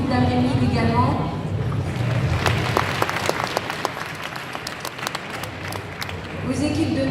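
An audience at the Zénith in Nancy breaks into loud applause at a charity cheque presentation, with dense clapping swelling and then fading as a voice comes back over it at the end.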